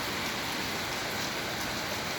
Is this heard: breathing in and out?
no